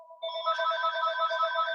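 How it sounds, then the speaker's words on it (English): A telephone rings indoors in a small house, a steady electronic bell tone that holds on clearly and alone, fairly close. "my phone is ringing"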